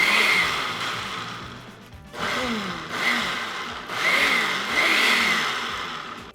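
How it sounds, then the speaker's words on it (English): A kitchen blender whirs loudly through carrot ginger dressing in several bursts, the motor pitch sagging and rising as it starts and stops, with no talking. "And now we blend."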